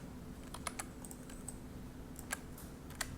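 A computer mouse clicks a handful of times during an office software lesson on SmartArt, sharp, quiet, irregular clicks spaced across a few seconds over a soft, steady background hum.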